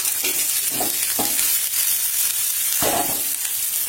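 Sliced onions go into a pan of sizzling fried garlic, giving a dense, steady hiss with a few distinct scrapes and clacks of stirring, close and fairly loud.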